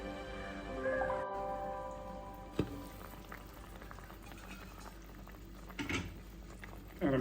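Shark fish curry, Kuttanad style with kudampuli and chili, simmers on a low flame as a soft, steady bubbling with a few faint pops and light clinks near the end, quiet throughout.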